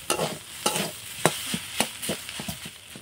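A spatula scrapes and stirs a fish stuffing mixed with soybean in a pan, about ten rhythmic scraping strokes over a soft sizzle, close and fairly quiet.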